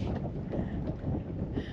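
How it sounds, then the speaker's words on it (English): Strong wind roars steadily over open water during a bass fishing outing, a constant broadband rush with gusty swells and microphone buffeting, no voices. "as you can tell, the wind is ripping"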